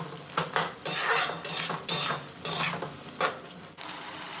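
Cluster beans with potato being stir-fried with chilli, turmeric and cumin powder, a spatula scraping and clattering against the pan in repeated strokes over a soft sizzle, close and fairly loud.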